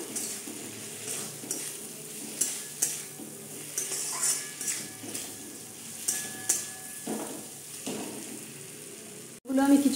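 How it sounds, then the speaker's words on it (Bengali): Potatoes sautéing in oil in a pan for aloo paneer, a soft sizzle under repeated rhythmic scraping and stirring strokes of a spoon, ending with a louder clatter. "আলুগুলো আরও কিছুক্ষণ কষবো আমি।"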